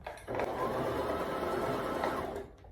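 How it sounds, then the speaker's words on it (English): A sewing machine stitches close to the neckline of a baby girl's ball dress, running as one steady, continuous whir for about two seconds after a brief start, then slowing to a stop. "You sew very close to your neckline"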